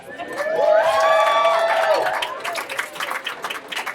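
Audience applause and cheering at a stand-up comedy night swell loudly, then taper into scattered claps and shouts, with a brief voice rising over the crowd.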